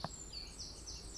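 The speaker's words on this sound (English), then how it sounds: "Nothing but songbird." Songbirds singing along a hiking trail, a few quick high chirps and short downward-sweeping whistles repeated in a loose rhythm, faint and somewhat distant over quiet outdoor background.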